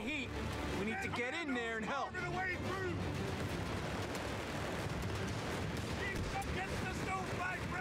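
Dense, continuous gunfire and machine-gun bursts from the World War II strategy game Company of Heroes 3, Italian campaign, roaring steadily with explosions beneath a player's voice.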